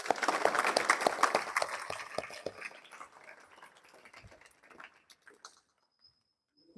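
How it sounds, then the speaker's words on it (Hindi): Students at a government school clap for their principal, a dense burst of applause that thins out over several seconds into scattered claps before going quiet. "एक बार हम सभी उनको धन्यवाद दें तालियों के माध्यम से"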